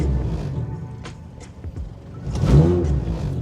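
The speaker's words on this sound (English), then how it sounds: "the car still stalls really easy" A car engine revs and falls as gears are shifted in a car that stalls easily, with a steady mid-level engine drone that swells toward the end.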